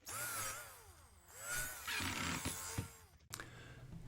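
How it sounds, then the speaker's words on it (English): A power drill whirs in rising and falling bursts as it drives a pilot hole and then a screw into plywood, close and fairly loud, with brief clicks and stops between runs. "Run that pilot screw or pilot drill through it one more time before I finish screwing it together."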